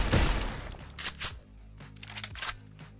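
Gunfire from an Evo M1014 Scorpio shotgun at full Level 8 upgrade in Free Fire, several sharp blasts in quick succession, loud and close, over game background noise.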